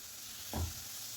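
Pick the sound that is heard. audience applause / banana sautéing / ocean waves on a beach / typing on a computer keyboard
banana sautéing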